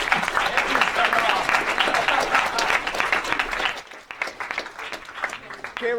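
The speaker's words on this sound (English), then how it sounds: "we should give a round of applause to these guys at the front" Audience applause after a 2014 student electoral debate: dense, sustained clapping from a large crowd that fills the first four seconds, then thins into scattered, fading claps.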